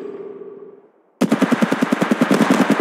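Rapid automatic gunfire from Apex Legends Mobile erupts after a brief lull of quieter game ambience, a loud, steady burst of evenly spaced shots continuing to the end.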